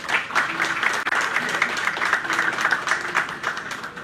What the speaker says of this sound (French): une modératrice, Fabiola Musac, que je vous demande d'applaudir pour commencer.